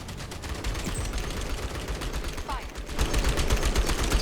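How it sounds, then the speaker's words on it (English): Machine gun tower firing in the Outpost: Infinity Siege video game, a steady dense rattle of rapid gunfire that runs the whole time and grows louder near the end, with a voice faintly underneath. "Defensive weapons online. Machine gun tower mounted."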